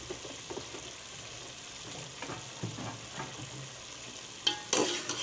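Whole spices and garlic pieces frying in half a cup of oil for kheema, with a low, steady sizzle, soft intermittent stirring scrapes, and a louder burst of crackling near the end.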